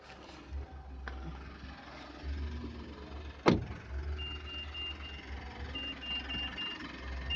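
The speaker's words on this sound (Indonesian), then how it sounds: "ini ada bunyi-bunyian yang mengindikasikan kalau kuncinya ada di luar mobil dengan kondisi mesin menyala" A 2017 Mitsubishi Pajero Sport 2.4 Dakar Ultimate automatic idles quietly while faint, evenly spaced warning beeps chirp in short bursts, warning that the key is outside the car. A single sharp click or thump cuts through midway.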